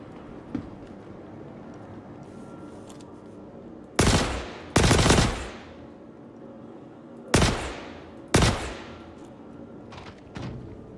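A gun fires in the video game Star Citizen: four loud, sharp blasts in two close pairs with pauses between, then a softer fifth shot, over a quiet hum.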